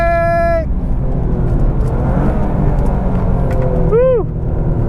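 A Toyota GR Yaris driven hard around a gymkhana course produces a loud, continuous engine rumble, with a rising tonal whine near the start and another sweeping whine about four seconds in.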